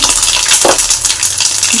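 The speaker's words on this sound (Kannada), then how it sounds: "ಈಗ ಇದಕ್ಕೆ ಒಗ್ಗರಣೆ ಹಾಕ್ಕೊಳ್ಳೋಣ" Onion tempering (oggarane) crackles in hot oil with a constant bright sizzle, broken by a brief metallic clink of a utensil against the pan partway through. Close and fairly loud, without speech.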